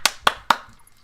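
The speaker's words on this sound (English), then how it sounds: "Everybody, clap your hands!" Three sharp hand claps in a quick, even rhythm, close and fairly quiet, the last one trailing into a short room echo with no talk over it.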